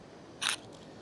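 A single camera shutter fires at 1/50 s in aperture priority mode, one short crisp click in an otherwise quiet moment.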